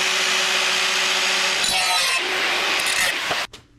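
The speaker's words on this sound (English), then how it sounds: "Pretty happy with that cutoff wheel, actually. Drag and cut." A thin abrasive cutoff wheel slices through the sheet metal of a damaged Chevelle fender, a loud continuous harsh grinding hiss with shifting pitch that runs for several seconds and then stops abruptly.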